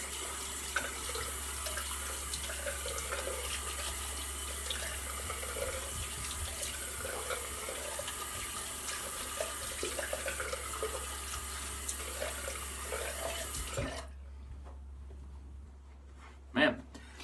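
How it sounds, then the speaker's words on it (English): Tap water runs steadily from a bathroom faucet for a cold rinse after a wet shave with Elvado Royal Tahitian Lime soap, a continuous broadband hiss that cuts off near the end, followed by a brief clink. "And then we'll do a cold water rinse and we'll finish with the post."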